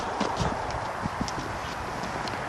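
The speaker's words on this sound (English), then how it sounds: "Thought I heard footsteps there." Footsteps in a cemetery in Gateshead, UK, in complete darkness at around 2 to 3 AM, a series of faint, irregular taps and knocks over a steady background hiss, with no voices.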